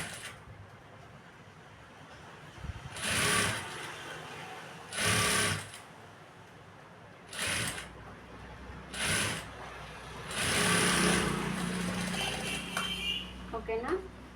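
A sewing machine stitching thread piping with a double foot runs in several short bursts of rapid mechanical whirring, separated by pauses. Quiet talk sits between the runs.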